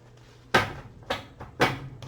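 Tarot cards are shuffled and fanned out by hand: three quick, papery swishes, each a short burst that fades, heard close and quiet with no talking.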